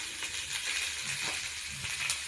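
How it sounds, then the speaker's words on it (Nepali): Fish fries in a pan with a steady, close sizzle and crackle that barely changes over its short length, with no talking. "माछा फ्राई गर्दैछु। माछा अझै गर्दैछु, माछा फ्राई हुँदैछ।"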